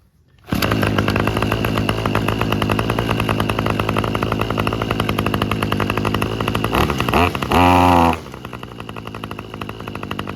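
A Toro 25cc string trimmer from an estate cleanout, with an unadjusted carburetor, starts up and runs. It gives a loud, continuous buzzing two-stroke drone that surges briefly near the end as the throttle is blipped, then settles back to idle.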